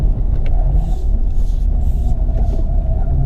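A 2020 Toyota Avalon TRD in sport mode shifting up into third around 4,000 RPM, heard from inside the cabin as a loud, continuous engine and road rumble with a slight pitch change as the gear changes.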